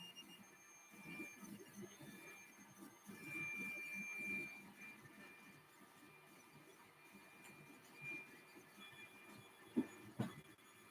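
An Anycubic Mega S 3D printer runs close by with a low rumbling hum of stepper motors, intermittent faint whines and a couple of brief clicks near the end, steady and moderately quiet.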